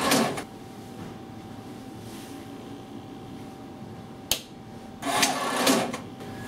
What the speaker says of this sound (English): the heating plate will now move into position